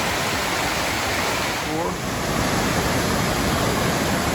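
Loud, steady roar of a waterfall heard from a bridge on the Pacific Crest Trail, a dense continuous rush of water with a faint voice briefly under it.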